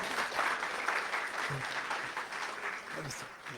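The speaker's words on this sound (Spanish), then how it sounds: "Un fuerte aplauso, por favor." Applause from an audience at a closing event of a project on violence against women, a steady patter of many hands clapping at a moderate, distant level with a few brief low murmurs underneath.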